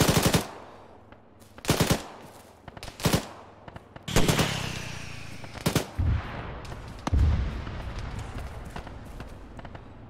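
Vehicle ammunition cooking off during an Arma 3 military-simulation battle: a string of loud, close bursts of sharp bangs and rattling pops, irregularly spaced, with fainter crackling between the blasts.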